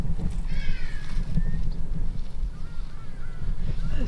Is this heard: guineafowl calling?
yes